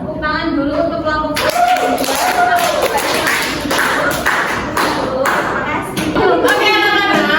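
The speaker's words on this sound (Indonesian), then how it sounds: "Tepuk tangan dulu untuk kelompok." A classroom of children claps for a group of pupils, with quick uneven hand claps and light thumps that go on for several seconds over a lively room with a few voices.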